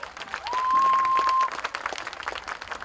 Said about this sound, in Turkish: Kıymetli solistimiz Ahmet Algün ve kıymetli hocalarımıza çok kuvvetli bir alkış